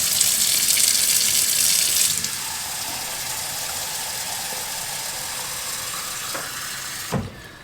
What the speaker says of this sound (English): So I'll just run the water in it and set it on the counter